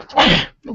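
A single close, breathy sneeze bursts out and fades, followed by a short voiced sound.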